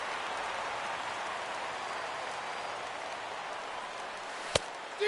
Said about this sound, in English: Well, the rain is coming down hard here.